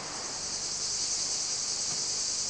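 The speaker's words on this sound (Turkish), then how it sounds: "Cırcır böceklerinin ötüşü" Crickets chirp in an olive grove valley with terraced groves, a dense continuous high trill that runs steadily and fairly loud throughout, with no voices.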